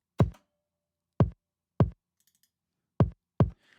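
Five punchy kick drum hits from a trap-style FL Studio beat, irregularly spaced and alone, each a short booming thump with a quick decay.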